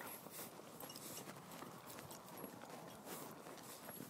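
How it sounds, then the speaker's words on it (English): Hooves clip-clop in a quick, even two-beat trot as a horse moves at a slow jog, soft and faint at a modest distance, with light background noise. "So, now I'll ask him to trot."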